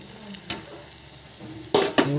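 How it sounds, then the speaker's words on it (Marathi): Onion bhaji sizzle while frying in a pan, a soft steady crackle broken by a few sharp clinks and scrapes of stirring, louder near the end. "व्यवस्थित भजी भाजायची"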